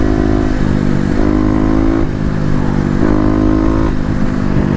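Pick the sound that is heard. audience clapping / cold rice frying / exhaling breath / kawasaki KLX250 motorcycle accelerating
kawasaki KLX250 motorcycle accelerating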